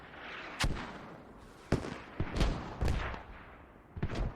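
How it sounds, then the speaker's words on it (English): Mortar rounds firing and impacting in a military video game match, a series of sharp irregular booms, some near and some distant, spaced a second or so apart over a low rumbling background. "They've gone straight to mortaring the radio area on lower Petrivka of Blue."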